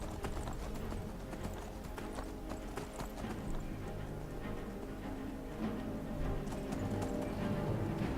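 Horse hooves in Skyrim clip-clop in a steady, continuous rhythm throughout, moderately loud against ambient game sound, with no talk over them.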